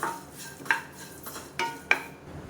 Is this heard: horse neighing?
no